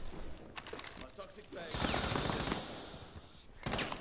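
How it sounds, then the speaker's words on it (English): Loud bursts of video game gunfire crackle in rapid strings with a sustained automatic stretch in the middle, and a voice talks faintly beneath. "I can't hear myself talk when I just hear gunshots."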